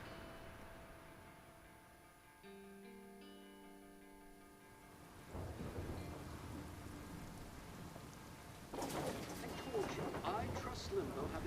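Stormy weather in the game Life Is Strange: a dim rumble and soft hiss early on give way to steadily heavier rain and thunder, growing louder toward the end, with faint tonal sounds near the start.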